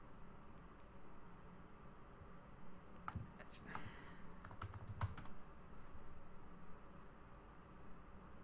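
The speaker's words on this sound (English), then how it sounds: "I'm just typing." Soft, irregular keyboard clicking, fairly quiet and close, with a few louder taps in the middle over a faint background hiss.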